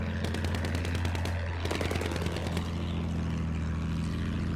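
Rapid machine-gun bursts from an aircraft gunner in a combat flight video game, loud rattling volleys over a steady droning propeller engine, firing in repeated strings across the whole stretch.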